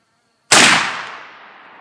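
A single sharp 45-70 rifle shot at a 30-yard deer-hunting test setup cracks loudly after a short silence, then rings out in a long decaying echo.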